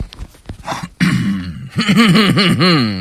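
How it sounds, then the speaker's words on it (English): A voice clears its throat with a couple of rough, gravelly rasps, ending in a drawn-out vocal grunt up close. "Let me clear my throat."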